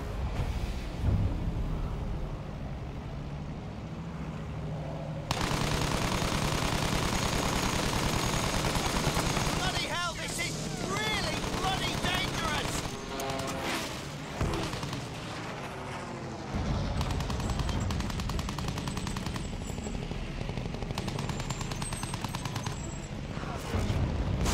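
Heavy gunfire rattles as German planes are shot down in the World War I shooter Battlefield 1: sustained bursts and booming blasts fill the scene, with a brief lull partway through and voices speaking beneath the barrage.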